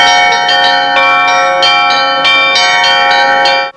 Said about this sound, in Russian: В Ижме впервые за 80 лет снова зазвонили колокола.